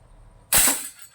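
A barrel-type slingshot fires an 8 mm ball with one sharp, loud snap that rings out briefly and decays within about half a second.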